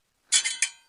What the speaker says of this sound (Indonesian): itu suara pedangnya kedengaran kan?